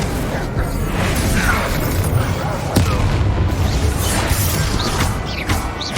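Spell blasts from Bombarda and Confringo in the video game Hogwarts Legacy sound as dense, loud rumbling explosions and crashes in a continuous barrage, with a sharp crack near the middle amid heavy layered combat noise.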